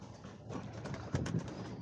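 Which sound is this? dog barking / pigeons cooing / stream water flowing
pigeons cooing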